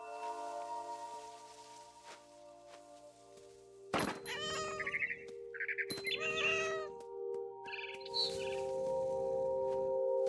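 Meows from a cat in the video game What Remains of Edith Finch, several loud, close calls in bursts over a steady hum of game ambience and music, with soft thumps between them.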